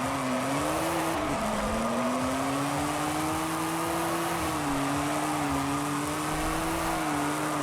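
A classic Maserati putting 500 horsepower to the rear wheels in the racing game Forza Horizon 5, its engine holding a steady droning note that dips briefly and climbs again, with faint tire noise and no talking.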